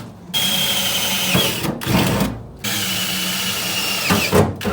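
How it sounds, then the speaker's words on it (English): A power drill bores pilot holes for rivet nuts during an intercooler and radiator sprayer upgrade, a loud whining motor in two long bursts separated by short pauses, with no talk. "Now we got our pilot holes drilled out"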